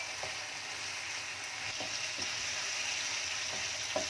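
Chicken, onion and peas frying in a pan, a steady broadband sizzle with a few soft stirring clicks scattered through, moderately close and alone without voices.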